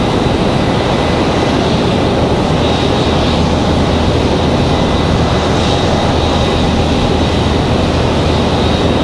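Airplane arriving at Raleigh-Durham International Airport, a loud, steady jet roar that fills the whole stretch with a constant broadband rumble and hiss and never fades.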